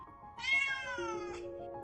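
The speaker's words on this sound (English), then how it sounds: "So I'm about to translate that into a meow." A single drawn-out cat meow, rising then falling in pitch, fairly close and clear with nothing else around it.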